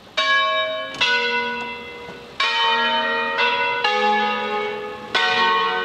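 Church bells from around the early 1800s in Pavia, Italy, recently restored with glass microbead blasting, ring in a slow, loud sequence of overlapping, resonant strikes whose tones swell and decay.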